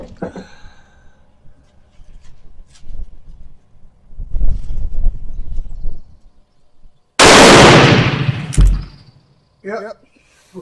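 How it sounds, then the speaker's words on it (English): A Turkish Mauser M38 rifle fires one sharp, loud shot outdoors that rings out with a short tail, following quiet handling noises and a stretch of low talking. "I'm going to shoot one more and see if I get 4 bullet holes."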